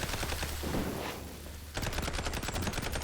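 Rapid automatic bursts from a Tommy gun in a video game, loud and close, with a brief lull in the middle before the fire picks up again.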